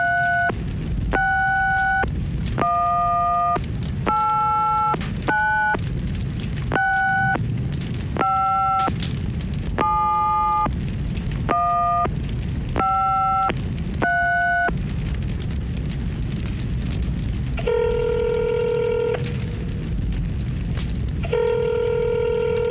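A touch-tone phone dials an 800 number: a quick run of distinct beeps in an uneven rhythm, then a repeated two-tone busy-style signal pulsing twice near the end, all heard close over a steady low hum.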